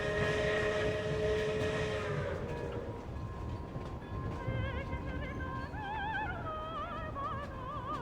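A video-game train pulls into Snezhnagrad station with a sustained horn blast, then rumbling, clattering wheels and wavering squeals of brakes or rails, loud and close with no voices.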